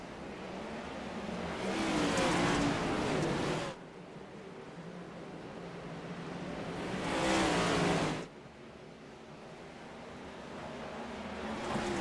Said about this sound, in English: The field in the hands of the 91 of Jonathan Jennings. And we're racing from Bristol Dirt